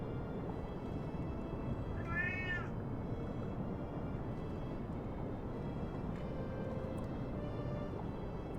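A pet cat named Ghost gives a single short meow partway through, faint and somewhat distant over a steady low background hum.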